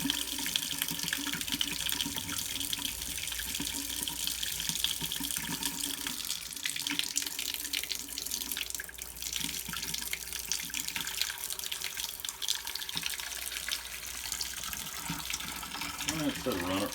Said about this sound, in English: The water's on full bore all over.